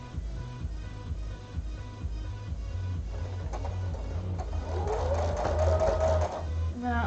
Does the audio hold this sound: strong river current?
no